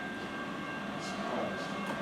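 A freight train passes close by on the nearer track, a steady broad rumble and rail hiss running throughout, with a faint high tonal whine above the noise.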